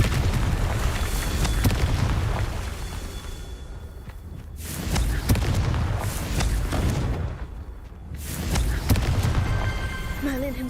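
Booming magical blasts from the Confringo spell in Hogwarts Legacy, several heavy explosive bursts with whooshing rushes between them, loud and continuous across the stretch, with game music and effects underneath.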